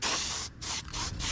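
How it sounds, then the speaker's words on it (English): Spray paint hisses from an aerosol can onto rust on a 1979 or 1983 Chevy Malibu in three close, loud bursts separated by brief pauses. "the can says don't remove the rust. It says just spray it over it."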